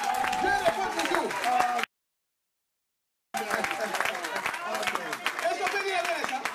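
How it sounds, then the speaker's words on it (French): Members of a church congregation clap and cheer in acclaim, lively crowd noise with voices mixed in, broken by a short stretch of total silence before the clapping resumes. "Donne une acclamation au Seigneur"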